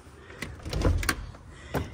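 The front door of a 4-bedroom manufactured home swings open with a close rattle of the latch and a couple of soft knocks and thumps, loud and alone.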